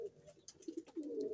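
Pigeons in a breeding loft coo close by in low, rolling phrases, with a few brief higher chirps and rustles between them.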